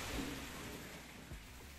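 Rain falls steadily during a rainwater-harvesting setup, a faint, even wash of patter with no voices over it.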